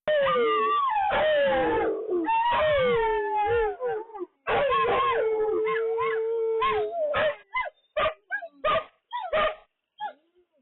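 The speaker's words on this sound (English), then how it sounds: "when one dog starts barking, and then suddenly, all the dogs are barking" Several dogs howl and bark together, long wavering howls giving way to a burst of sharp, overlapping yips and barks toward the end.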